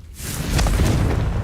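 Confringo explosive spell blast in Hogwarts Legacy, a dense, loud booming roar that swells after a brief onset and rumbles on for the whole clip.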